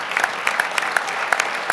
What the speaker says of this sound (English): I want to give a big round of applause to these sponsors.